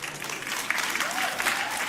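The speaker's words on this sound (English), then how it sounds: "Why are you clapping for them?" A church congregation claps for newly married couples, broad steady applause filling the room for the whole two seconds.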